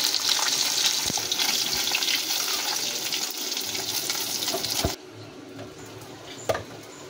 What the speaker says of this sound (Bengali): এরকম করে মাছগুলোকে ভেজে আমি তুলে নেব